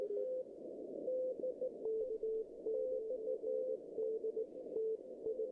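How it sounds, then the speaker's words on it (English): Morse code from a distant DX station on an amateur radio: a fast, steady stream of tone beeps in short and long pulses, heard faint through a noisy receiver with background hiss. "It was a P station, so it's DX out of the country."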